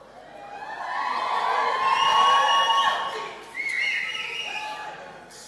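A graduation audience cheers and shouts in a hall, a swelling crowd roar of whoops and high voices that peaks, briefly dips and rises again, with little distinct clapping.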